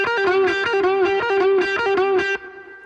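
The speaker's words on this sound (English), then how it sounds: "The second pattern would be pick, pull, pick." Distorted electric guitar repeats a fast pentatonic lick in a pick, pull-off, pick pattern, bright sustained notes in an even looping rhythm for about two seconds before ringing out, no talking.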